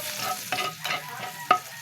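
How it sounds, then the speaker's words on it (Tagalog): Garlic is sautéed in a pan for a Filipino laing dish, with a few quick stirring scrapes over a hissing sizzle, close and brief. "ginigisa ko po muna yung bawang,"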